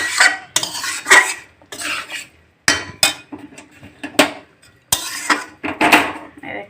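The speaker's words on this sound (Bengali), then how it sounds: "এই যে তরকারিটা নাড়তে নিচ্ছি" Potato curry being stirred in a pot with a metal spoon, giving repeated scraping clanks and clinks of utensil on cookware in short bursts with pauses, fairly close, no talking.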